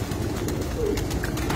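A Sialkoti cross racing pigeon hen coos low and soft at close range, a steady murmuring call over faint background noise.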